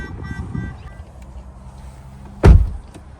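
A red Corvette's door clunks once, a single sharp latch-and-thud near the end, close and loud, after a quieter stretch of low rumble and muffled handling noise.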